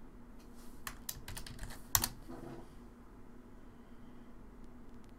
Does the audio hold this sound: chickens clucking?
no